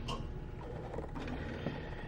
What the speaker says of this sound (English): so I'm going to raise the blade up